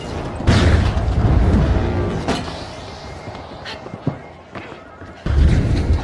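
A frag grenade blast in the arena shooter The Finals, a heavy low boom that rises sharply and dies into rumbling game noise, followed by smaller thuds and a second loud burst near the end.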